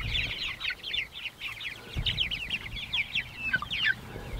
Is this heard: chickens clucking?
yes